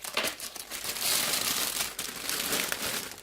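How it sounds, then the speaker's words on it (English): A large plastic bag from a MiniArt T-55A Early Mod.1965 tank model kit crinkles and rustles continuously as it is handled up close, with no talking. "Inside this big plastic bag we have three smaller bags."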